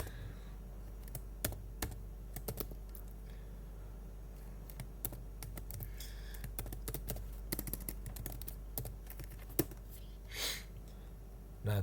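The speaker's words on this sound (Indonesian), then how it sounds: "di sini cuman ngetik rumus doang" Formulas are typed on a computer keyboard in a steady stream of soft, close key clicks with occasional louder taps, running for about twelve seconds with no talk.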